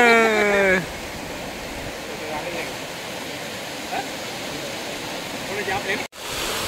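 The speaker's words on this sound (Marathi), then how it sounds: "धबधबा इथून काय भारी दिसतं बघा." Steady broadband rushing of a waterfall viewed from a valley lookout, moderately loud and continuous, with a brief tonal sound at the very start and a short dropout near the end.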